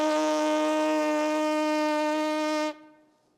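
Trumpet player's lips buzzing without a mouthpiece, a single steady reedy buzz held for under three seconds before cutting off abruptly, close and alone.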